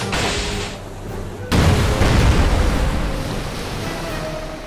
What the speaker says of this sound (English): Torpedo loose.